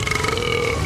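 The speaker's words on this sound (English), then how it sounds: "Or Dino's big burp, haha." A cartoon dinosaur lets out one big, loud, close-up burp, a single drawn-out rumbling belch that lasts about a second.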